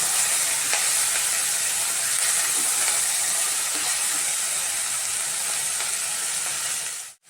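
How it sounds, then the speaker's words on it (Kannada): Field beans (avarekalu) frying in a pan give off a loud, continuous hiss and sizzle that holds steady for several seconds before cutting off abruptly at the end. "ಇದು ಸ್ವಲ್ಪ ಫ್ರೈ ಆಗಲಿ, ಕಾಳುಗಳು ಹಸಿದು."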